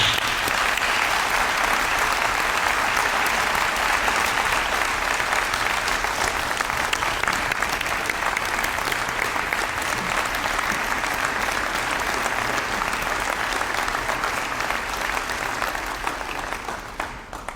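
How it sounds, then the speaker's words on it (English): Sustained, dense audience applause at an event announcing a battery plant in Edgecombe County. It holds a strong, even roar of many hands clapping for over fifteen seconds before easing off at the end. "Let's give them another big round of applause."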